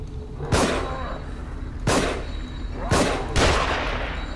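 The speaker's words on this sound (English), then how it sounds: "I'm shooting at the dude." Gunshots from The Evil Within, four loud, sharp blasts spaced about a second apart, each with a short echoing tail over a low ambient game background.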